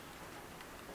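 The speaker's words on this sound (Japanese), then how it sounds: "雨の音入ってたらごめんなさい。" Rain falls outside in a soft, steady hiss, faint and distant, heard from indoors with no voices.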